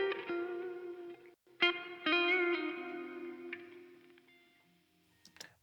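Electric guitar with a delay effect, notes ringing out with repeating echoes trailing off, a few plucked chords decaying slowly into quiet.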